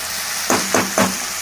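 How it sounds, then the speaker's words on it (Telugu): Tomatoes dropped into a hot pan for a tomato pulp curry sizzle loudly, with three distinct bursts of frying as pieces go in, over a steady background hiss. "ఇప్పుడు టమాటాలు వేసాము"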